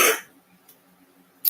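A single short cough at the start, fairly close and loud, followed by near quiet and a faint brief burst near the end.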